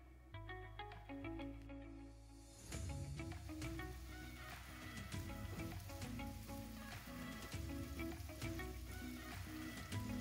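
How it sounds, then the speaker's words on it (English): Onions fry in melted butter in a medium pan, a quiet crackling sizzle that swells after a few seconds, with spatula scrapes and taps as they are stirred, plus a low steady hum underneath. "I will melt 2 tablespoons of butter in a medium pan, then I will toss the onions and stir for a couple of minutes"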